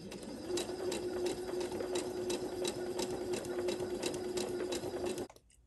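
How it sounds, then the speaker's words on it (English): A sewing machine stitches a quarter-inch seam on a no-waste flying goose quilt block, a steady even whirring hum with fast rhythmic needle ticks running for about five seconds before stopping. "I'm going to sew 1/4 inch away on the left side of the line"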